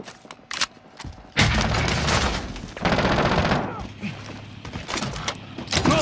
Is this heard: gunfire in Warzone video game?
yes